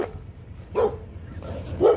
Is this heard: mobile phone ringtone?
no